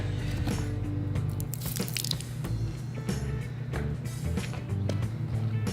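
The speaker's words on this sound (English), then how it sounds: "And let's pour some water on there." Water poured onto a burning steel-toe shoe nearby produces wet crackles, drips and short sputtering bursts.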